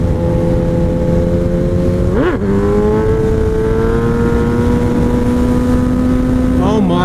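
Kawasaki ZX10R motorcycle engine revving hard in fourth gear during a wheelie, a loud, steady high-pitched drone with a gear-change dip and rising pitch, close and continuous.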